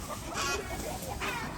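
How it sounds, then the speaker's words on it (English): A chicken clucks on a canal path behind a Bangkok condo, giving a quick, close burst of clucks that ends in one sharper note. "They're chasing that chicken."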